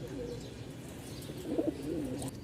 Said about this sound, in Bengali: মাদি ঠিক আছে বসে গেল কবুতর